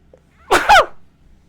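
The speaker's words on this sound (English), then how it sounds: "I don't know when I've last sneezed on camera before." A single sharp human sneeze bursts out close to the microphone in a quiet indoor room, a quick two-part blast that fades at once.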